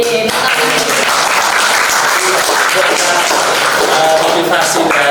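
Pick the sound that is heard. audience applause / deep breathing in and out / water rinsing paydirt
audience applause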